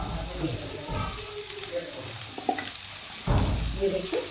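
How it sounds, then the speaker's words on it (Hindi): Onions frying in a pan while making a quick bitter gourd (karela) curry with vinegar, a soft steady sizzle with stirring scrapes, louder toward the end, under occasional faint background voices. "अब इसमें थोड़ा सा डालते हैं प्याज। ये प्याज फ्राई करते हैं।"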